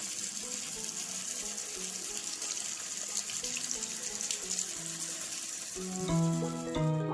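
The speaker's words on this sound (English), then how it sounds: "Remember, we always have to clean all utensils after using them." Tap water runs steadily while utensils are washed in an animated cleaning scene, a continuous close hiss with light clinks and a simple musical melody rising toward the end.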